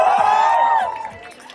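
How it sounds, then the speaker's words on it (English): A crowd at an outdoor film promotion event for Tu Ya Main at Kala Ghoda cheers and whoops. One strong, rising shout stands out above the group, then the noise fades over a second and a half. "Give me a huge cheer, come on!"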